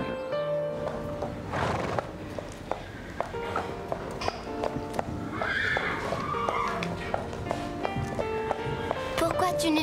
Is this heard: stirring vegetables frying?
no